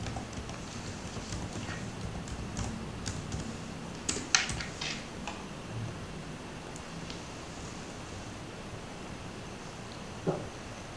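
Someone types a password on a computer keyboard. A few faint, scattered key clicks stand out from a steady hiss, with a small cluster of taps midway and one more near the end.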